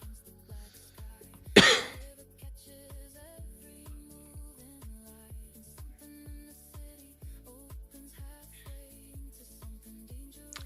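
A single sharp, loud cough bursts out close to the microphone, standing out above a quiet, steady electronic beat that plays throughout.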